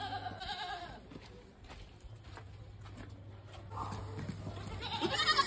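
A goat being milked bleats several times at a moderate distance, with short wavering calls against a steady farmyard hum and some background rustling, and no talk.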